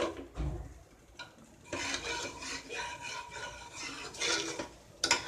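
Dal with greens being stirred in a pot after liquid is poured in, a faint close scraping and sloshing of a spoon against metal, in uneven strokes with soft clinks.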